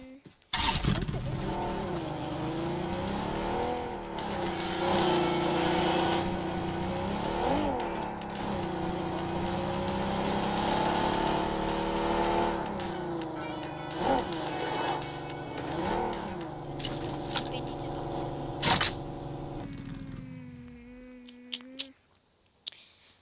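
A car engine drones steadily while driving in PUBG Mobile, its pitch rising and falling with revving for about twenty seconds before cutting out, under someone talking throughout.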